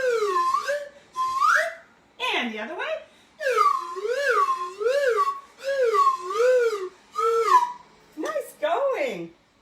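A whistle is blown in a series of sliding, wavering tones that rise and fall in pitch, loud and near, in short bursts separated by brief pauses, with a few spoken words.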